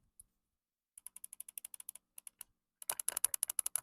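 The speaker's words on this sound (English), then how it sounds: "buttons, triggers, face buttons, pad, everything has been replaced to mouse click" Game controller whose buttons, triggers, face buttons and pad have been fitted with mouse click switches, clicked in quick runs: a single click, then a rhythmic string of crisp taps, and a faster louder flurry, close and alone.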